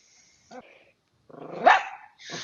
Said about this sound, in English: So help me, that damn dog will shut up.